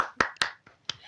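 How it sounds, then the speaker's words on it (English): A few scattered hand claps at a small online community meeting, sharp and sparse: several quick claps close together, then a pause and a couple more. "a big round of applause for all the localizers"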